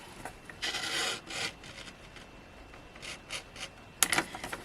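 Cardstock cut for cardmaking, close, short scraping swipes of a blade along a trimmer coming in separate bursts, with a sharper stroke near the end and quiet gaps between, no talk.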